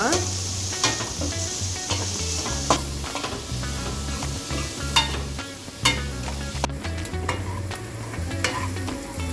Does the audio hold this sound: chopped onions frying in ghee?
yes